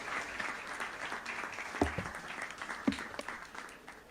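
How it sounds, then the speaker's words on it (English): A seated audience at a business professional awards event claps together, a fairly soft, steady patter of many hands with a few louder individual claps standing out. "Let's have a huge round of applause, everyone, for Ms. Monica Romelina Sijabat here with us."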